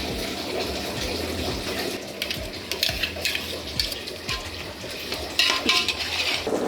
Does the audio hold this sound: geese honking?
no